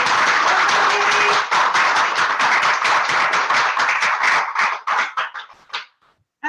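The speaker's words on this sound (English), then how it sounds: "Clap for everybody who did a training, but make it extra noisy for wee Mary who did the very first one." A room of trainees at an August 2018 gathering in Scotland breaks into loud clapping for everyone who led a training, the dense applause holding steady before thinning into scattered individual claps and stopping.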